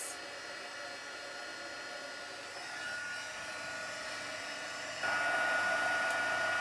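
A steady, loud blowing whoosh from a heat embossing tool running continuously, with no talking, growing slightly louder partway through.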